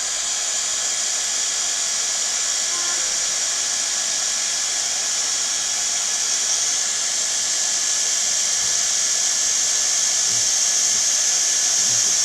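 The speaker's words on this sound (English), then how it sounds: "So quick blast with the heat gun." A heat gun blowing hot air to dry apricot paint on a miniature shrine craft project, a steady, loud, even whoosh with a high whine that holds without a break from start to finish.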